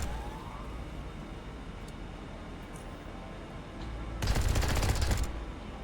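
A heavy weapon in Underrail lets out a loud sustained burst of rapid automatic fire lasting about a second. Before the burst there is a dense, noisy bed of ambient rumble with a few faint clicks.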